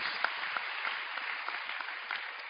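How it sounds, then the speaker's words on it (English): An audience applauds the NAS working committee, a thin, steady spread of clapping heard somewhat muffled and moderately quiet, continuing throughout without speech. "Big round of applause to them."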